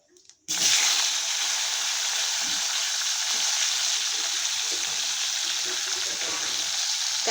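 Vegetables drop into hot oil with fried cumin in a kadai and erupt into a loud, sudden sizzle after a brief quiet start. The sizzle then settles into steady, continuous frying close by.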